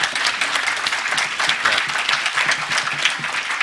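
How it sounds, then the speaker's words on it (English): A live audience at a hacker conference breaks into steady, dense applause, many hands clapping continuously and fairly close throughout, with no speech over it. "So let's just hear a round of applause for Miloš, and congratulations."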